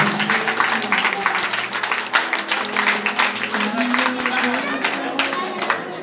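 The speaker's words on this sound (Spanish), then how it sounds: "Fuerte aplauso, por favor." An audience at an event applauds loudly, a dense crowd clapping with a low background hum and some voices mixed in, the sound staying strong and fairly even throughout.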